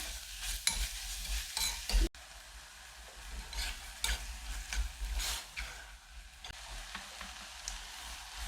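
Pork stirring and sizzling in a pot for spicy sundubu-jjigae, steady close crackle with bursts of scraping and stirring clatter throughout, no talking.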